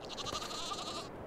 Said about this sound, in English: No, it sounds like sheep.